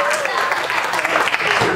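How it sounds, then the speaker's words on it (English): A magic show audience at the New Panihati Festival breaks into brief clapping, lasting under two seconds and mixed with voices. "give me an applause"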